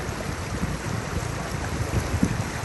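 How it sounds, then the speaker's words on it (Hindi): Fast-flowing floodwater rushes in a steady, dense roar that fills the space without pause, with no clear voices on top. "पानी का बहाव बहुत तेज़ है"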